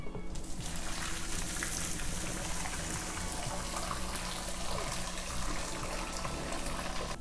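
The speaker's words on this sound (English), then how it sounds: "I just love draining this pot" A pot of pasta water being poured out into a sink makes a continuous loud rushing, splashing hiss that lasts throughout with no talking.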